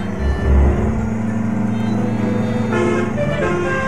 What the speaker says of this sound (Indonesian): Kasih telolet dulu